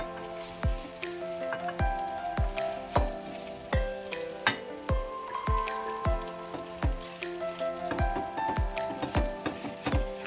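Fried rice with vegetables sizzles in a pan and is stirred, with repeated sharp scraping strokes roughly every half second over a faint steady frying hiss, close and moderately quiet.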